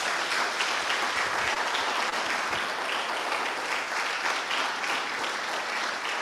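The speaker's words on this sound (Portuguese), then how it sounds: "Vamos aplaudir o nosso Deus bem forte" Sustained, dense applause from a church congregation during a family worship service, steady and loud throughout with no break or speech.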